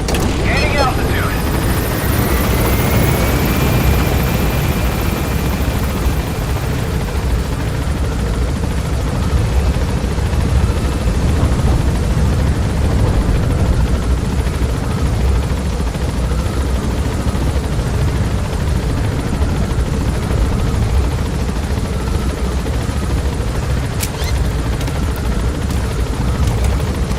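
A helicopter in the video game Metal Gear Solid V: The Phantom Pain climbs and gains altitude: a dense, steady rotor roar that stays loud and unbroken throughout, with a brief rising whine at the start.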